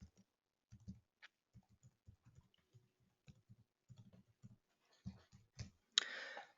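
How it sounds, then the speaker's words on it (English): A web address is typed on a computer keyboard as a run of soft, irregular key clicks and taps, close and faint, ending in a brief louder rustle. "I'll type it in."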